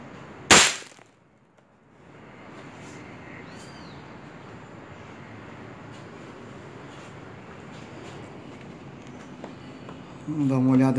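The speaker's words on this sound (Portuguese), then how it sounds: "Vamos dar com o tiro explosivo agora para ver se faz alguma diferença mesmo." A single loud shot from a CBC Montenegro 6.0 firing an explosive round at an old brick, a sharp close crack at the start, then steady outdoor background noise with a rising rumble near the end.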